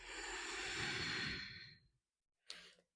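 A long, slow exhalation during a yoga session fades out, followed after a short silence by a brief, sharp inhalation, both close and soft.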